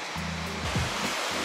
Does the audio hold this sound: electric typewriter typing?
no